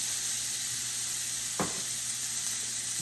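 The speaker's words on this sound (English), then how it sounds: "Let that continue searing." Beef searing in a stew pot after a splash of Worcestershire sauce, giving a steady broadband sizzle with one brief louder crackle partway through, close and continuous with no voices.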